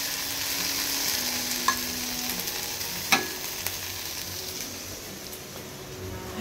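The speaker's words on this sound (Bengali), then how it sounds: "একটু জিরে ফোড়ন দেব" Cumin seeds sizzle in hot oil as dal is tempered, giving a steady crackling hiss with a few sharp pops and a faint background hum, close and fairly quiet, with no talking.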